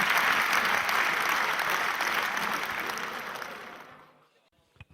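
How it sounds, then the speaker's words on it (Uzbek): An audience at a New Year's evening concert claps to welcome a performer onto the stage. The dense, loud applause gradually fades away over about four seconds. "qarsaklar bilan kutib olinglar"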